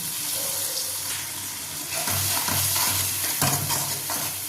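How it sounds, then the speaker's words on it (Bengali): Ginger, garlic and green chili paste frying in hot ghee for a biryani masala, giving a steady, close sizzle throughout, with soft scraping stirs near the middle. "ঘিয়ের মধ্যে আমি আদা, রসুন, কাঁচা লঙ্কা পেস্টটা দিয়ে দিয়েছি।"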